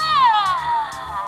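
A Bandai interactive toy cat gives a loud, close electronic meow that slides downward over about a second, with faint soft clicks beneath.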